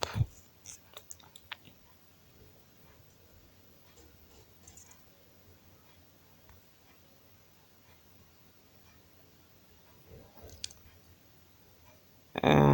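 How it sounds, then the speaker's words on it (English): Mouse clicks while filling in a website sign-up form: a few faint, scattered sharp clicks at a quiet desk, with a louder noise cutting in at the very end. "click on I agree with the privacy policy and then sign up"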